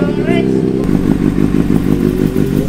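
Motorcycle engine idling and briefly revving during a group test ride, a close, loud throbbing putter, with voices talking over it.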